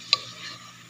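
Shrimp sizzle steadily in a hot pan while a utensil stirs them, with one sharp clink of metal against the pan near the start and a continuous fizzing hiss throughout.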